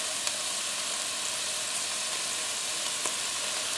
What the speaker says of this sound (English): We'll fry this a little bit, a little saute